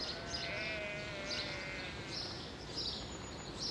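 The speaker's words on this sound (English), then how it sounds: "some lambs by the sound of it" Sheep and lambs bleat in repeated wavering calls over steady outdoor background noise on an island, with small birds chirping faintly around them.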